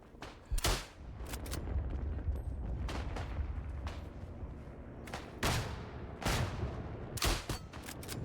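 Grenade blasts and gunfire from a first-person shooter video game come as sharp, loud cracks and booms scattered irregularly over a constant rumbling battle bed.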